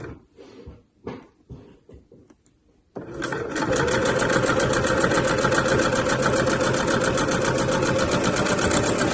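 A sewing machine topstitches the outer of a fabric slouch bag. A few soft handling knocks come first, then the motor starts and runs in a steady, close, fast rattling hum to the end.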